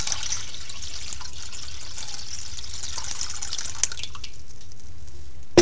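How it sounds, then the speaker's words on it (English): Tap water runs steadily into a cooling bath around the edge of a laboratory beaker, a continuous splashing pour that thins out toward the end, with a faint clink near the close. "I'm going to add the tap water around the edge of the beaker"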